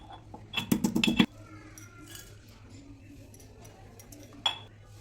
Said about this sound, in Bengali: ফোড়নের জন্য নিয়েছি 2-3 টুকরো দারচিনি, 4টে এলাচ আর 5-6টা লং। একটু থেতো করে নেব।